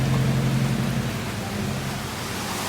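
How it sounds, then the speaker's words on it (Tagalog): Steady heavy rain hisses without a break during a gravel bike ride from Pangasinan toward Tagaytay, Cavite, a dense wash of noise with a low rumble beneath. "ulan lang ulan."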